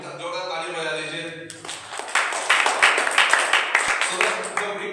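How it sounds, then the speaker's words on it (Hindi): A church congregation claps loudly during a Christian message, a dense burst of hand claps that starts abruptly and carries on steadily after a short stretch of talk. "जोरदार ताली बजा दीजिए।"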